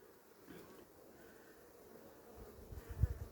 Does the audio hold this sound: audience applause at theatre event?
no